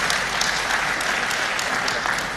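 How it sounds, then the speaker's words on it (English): Audience applause at a Securities and Exchange Commission corporate governance conference, a steady, dense clapping from a sizable crowd, close and sustained throughout. "A round of applause, please, ladies and gentlemen."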